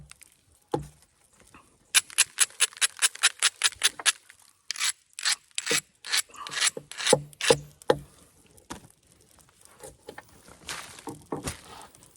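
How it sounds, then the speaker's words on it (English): Kineo rhyolite rasps as the edge of a flint-knapped Dalton point is ground down, a run of quick, evenly spaced scraping strokes close to the mic, followed by slower, more irregular rubs. "I have to grind down again."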